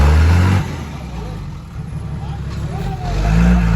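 A tuned car engine revs up and settles after its fuel pump has been opened up several turns, the mid-pitched roar loud and close, dipping then swelling again, with people talking over it.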